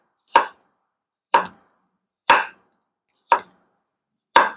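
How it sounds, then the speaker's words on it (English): A knife cuts through potatoes in five evenly spaced, crisp chops about a second apart, close and clear with quiet between each stroke. "I'm just going to set this just right off to the side so I can cut up my potatoes"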